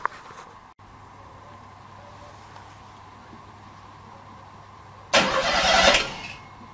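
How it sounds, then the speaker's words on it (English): An NSU car engine starts after a long quiet pause: a sudden, loud burst of cranking that catches into a brief rough roar, close by, then settles down. "Let's see if it cranks."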